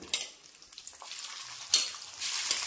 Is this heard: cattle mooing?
no